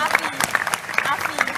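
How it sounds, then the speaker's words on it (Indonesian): Scattered clapping from an audience at an Indonesian talk gathering, a short burst of hand claps heard with a voice speaking over it. "Tepuk tangan untuk siapa tadi namanya?"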